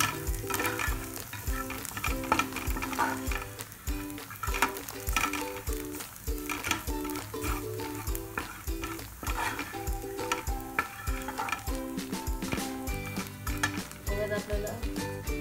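Turmeric and masala being stirred into frying oil in a pan for a traditional village vegetarian thali, with continuous sizzling and repeated scraping, clinking stirs throughout, close and busy under background music.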